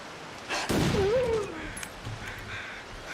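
A custom rifle fires once in The Long Dark, a sharp broadband report followed by a short metallic reload clatter, with a faint whistling tone afterward and quiet background.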